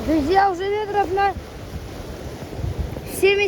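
Storm waves surge and splash along the Yalta shore during a cyclone with 30 m/s winds and snow, a rushing wash under gusting wind noise, while someone talks excitedly over the first second and again at the end.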